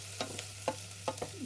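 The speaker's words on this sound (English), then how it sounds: "Stir and fry that for a short while, because you want to get a fry on the nettles." Nettles stirred and frying in a pan, with a soft continuous sizzle broken by several scraping stirs at an uneven rhythm, close by and without talk.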